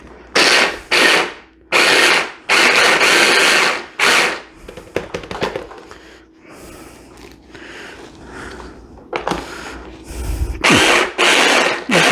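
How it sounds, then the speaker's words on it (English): A small food processor grinds fresh cilantro into a paste for chili, running in several loud, steady bursts with short pauses and quieter clattering in between. "I don't feel like dirtying up my big food processor,"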